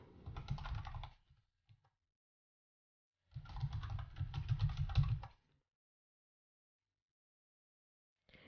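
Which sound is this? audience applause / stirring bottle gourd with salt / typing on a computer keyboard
typing on a computer keyboard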